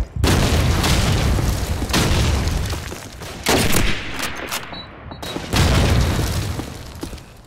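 Video game gunfire in a pistol firefight: loud, dense bursts of shots and booms in long stretches, separated by brief lulls.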